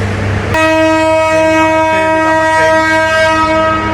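The Burimari Express train sounds a loud, sustained horn before departure: a steady harmonic blast that starts abruptly and holds for several seconds over station noise.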